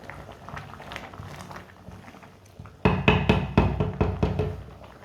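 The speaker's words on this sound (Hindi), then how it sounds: "आप इसे 5-6 मिनट के लिए और पका लेंगे।" A carrot and walnut dessert simmering in a pot on the stove bubbles softly at first, then a run of sharp, fairly loud knocks follows close by.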